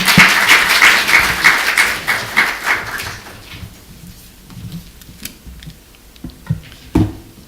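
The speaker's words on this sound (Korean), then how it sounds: "우리 뜨거운 박수로 우리 집사님 모시겠습니다" Applause from a church congregation greeting a guest speaker at a Korean church service, a dense burst of many hands clapping for about three seconds, then fading into scattered room noise and a few isolated claps.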